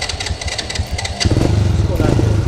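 A motorcycle engine runs in Ho Chi Minh City, rumbling steadily and then growing louder and rougher as it revs up partway through, with a voice speaking over it.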